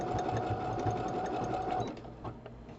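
Sewing machine stitching a boho bag, a close, steady rapid whir for about two seconds before slowing and trailing off into quieter handling sounds.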